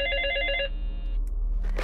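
A ringing telephone trills in a brief burst of bright electronic tones inside the Five Nights at Sonic's 2 game, cutting off abruptly and leaving faint background ambience.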